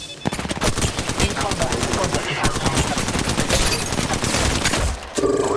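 Gunfire in Apex Legends Mobile, loud rapid automatic bursts in a dense continuous stream, cutting off briefly near the end before a different game sound follows.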